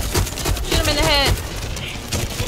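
Rapid bursts of video-game gunfire crackle close and loud in a fast, irregular string of shots, with someone talking over the shooting and a rising electronic whine cutting through midway.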